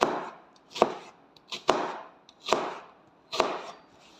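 A knife chops down through an onion on a cutting board, five firm, evenly spaced thuds about a second apart, close and clear with no talk.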